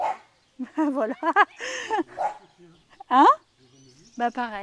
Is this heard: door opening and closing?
no